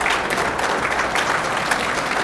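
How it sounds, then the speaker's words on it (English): Audience applause at the 2001 US Open 9-Ball Championship, a pool match between Earl Strickland and Niels Feijen: steady, dense clapping from a crowd, moderately loud and continuous with no talk over it. "that shot deserved applause"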